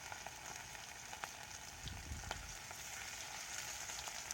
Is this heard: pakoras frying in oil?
yes